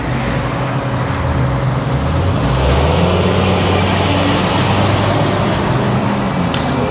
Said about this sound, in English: There's some classic American muscle right there with the turbocharger sticking out of the hood.